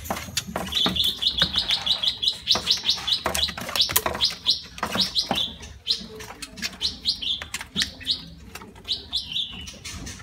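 Caged songbird, a red-headed finch, singing a rapid series of bright, high chirps and trills in bursts, close and clear over faint background noise, with no talk.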